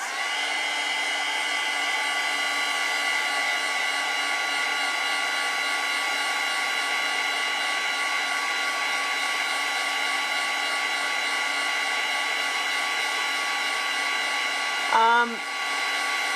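A hair dryer blows steadily over watercolor paint on plain sketchbook paper, a constant loud whirring hum with a whine, then a brief pitch drop and click as it switches off near the end.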